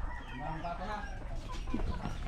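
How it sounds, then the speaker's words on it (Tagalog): Chickens cluck softly amid a busy farmyard background in the Philippines, with turkeys nearby and faint voices mixed in. "Daming manok."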